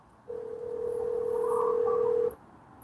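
A steady telephone call tone plays over a speakerphone, a single sustained hum of about two seconds that starts and stops abruptly against a quiet background.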